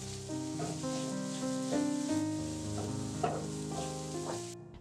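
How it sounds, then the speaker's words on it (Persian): Mushrooms fry over fairly high heat and are stirred in a pan, with a soft steady sizzle and occasional stirring scrapes under background music. "با حرارت نسبتاً بالا تفتشون میدیم تا وقتی که آب قارچه کشیده بشه"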